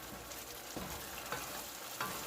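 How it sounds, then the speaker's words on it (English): Tomato sauce for pan-seared cod, cooked with white wine and basil, sizzles steadily in a pan as a utensil stirs it with a few soft scrapes, close up and without talking. "Give it a stir"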